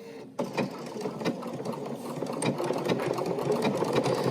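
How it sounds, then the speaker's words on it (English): A Bernina sewing machine running a triple stitch straight down a seam: steady, close mechanical whirring with a quick needle rhythm that starts abruptly and continues to the end. "You're gonna stitch right straight down using that same triple stitch."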